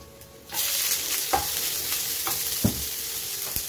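Garlic and broccoli stems hit a hot pan and start a steady, close sizzle, with a few spatula scrapes punctuating the frying.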